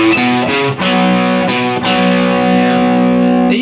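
Distorted electric guitar plays a riff through an effects unit, two bars at a slow tempo, loud and close with sustained chords and steady repeated notes.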